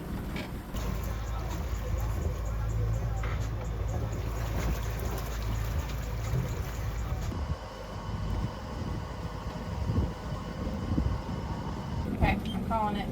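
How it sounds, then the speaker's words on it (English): Sailboat engine idling at lowered RPM during a passage to Zihuatanejo, a steady low rumble with water sloshing and wind noise around it. "I've lowered the RPM for the engine"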